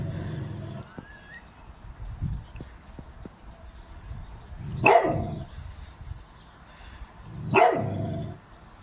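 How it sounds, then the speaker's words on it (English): A ten-month-old black Labrador gives two loud, sharp barks a few seconds apart, close to the microphone, with quieter indoor sounds between them. "It's a bit of a rarity, but he is using his bark a bit more these days."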